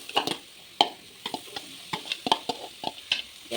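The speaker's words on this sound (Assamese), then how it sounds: "এতিয়া পিঁয়াজখিনি ফ্ৰাই হ'ল, অলপ ৰঙচুৱা হোৱাত মই এতিয়া ৰুকি লোৱা গাজখিনি দিম।" Bamboo shoot and onion frying in oil in a pan, with a faint sizzle under scattered clicks and scrapes of stirring, close and fairly quiet.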